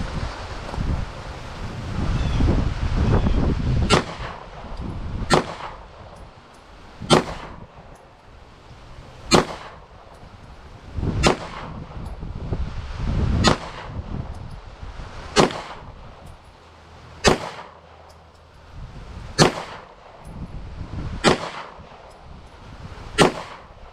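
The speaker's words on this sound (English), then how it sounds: "we'll fire a few rounds downrange" Walther PDP pistol fired downrange at a range, about eleven sharp, evenly spaced shots standing out clearly over steady wind noise with no talking.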